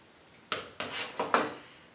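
Scissors cut a square of blue fabric with four short, crisp snips in quick succession, close and fairly quiet.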